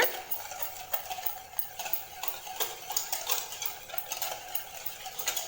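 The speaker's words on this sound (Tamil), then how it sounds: "சுகர் ஆட் பண்ணிவிட்டு இதை நல்லா பீட் பண்ணிக்கோங்க" Egg and sugar are beaten by hand in a mixing bowl, a quick, quiet run of rhythmic clinks and taps that keeps going throughout.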